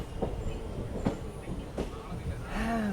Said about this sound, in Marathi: बसलं बघा आता ट्रेनमध्ये